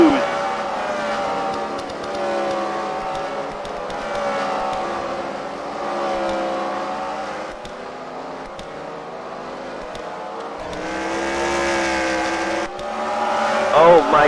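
Race cars lap a track at a CWRL Fight Night event at the Freedom Factory, engines droning and shifting pitch continuously while a commentator talks over them.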